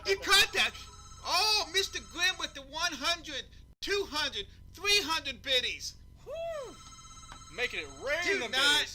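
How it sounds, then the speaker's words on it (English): A landline telephone in a home rings repeatedly in the background while several people talk and laugh over it throughout. "You guys probably hear my phone ringing."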